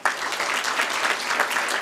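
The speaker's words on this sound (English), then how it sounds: "I do want to give them a warm round of applause" A board of education meeting audience gives student leaders a warm round of applause: brief, dense clapping from many people, steady and fairly close throughout.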